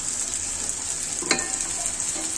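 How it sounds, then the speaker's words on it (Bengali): Beef fries in a pan with a steady, close sizzling hiss, broken once by a single sharp scrape of a spoon stirring the meat. "এভাবে ভাজা করে নিলাম"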